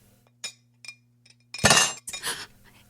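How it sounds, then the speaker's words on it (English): Spoons clink against breakfast bowls at a silent family table, a few light, separate taps followed by a louder, ringing rattle of cutlery on crockery. "Spoons clink."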